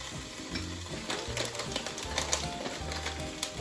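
Beef cheek taquitos, rolled tight with salsa, fry seam down in a hot pan, giving a steady close crackle and sizzle with scattered sharp pops throughout.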